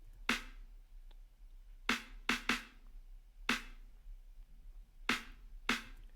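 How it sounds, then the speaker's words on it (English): Layered snare hits blending an acoustic and an electronic drum sample, seven sharp cracks at uneven spacing, some in quick pairs, each with a short bright decay over a quiet low hum. "And then we combine them, and it sounds a lot better together here."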